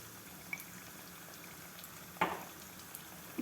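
Lentils with asafoetida and turmeric frying in hot oil for foxtail millet onion chitranna give a steady, low sizzle throughout, with a louder clatter of stirring midway and a few soft ticks, no talking.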